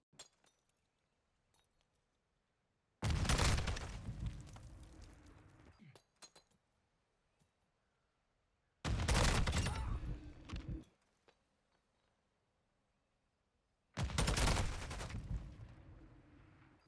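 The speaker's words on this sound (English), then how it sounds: "When the grenade blows up, we're just going to start shooting and see which one kills first at those given ranges." Three loud, dense bursts of video-game combat, several seconds apart, each a grenade blast running into rapid gunfire from a TAQ 56 rifle build, with near silence between.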